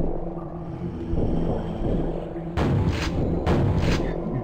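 Shotgun blasts fired underwater in Quake, two muffled booming shots a second apart, each with a dull low thud and watery wash, over a droning underwater ambience.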